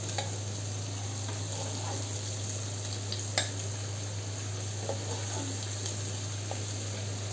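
Hilsa fish frying in a pan, a steady soft oil sizzle with faint stirring clicks and a low kitchen hum underneath, no talking.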